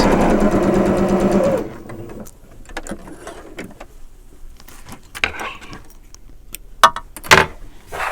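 Sewing machine stitching straight binding, a loud steady mechanical whir running close for the first second and a half, then stopping into quiet with scattered clicks and fabric handling.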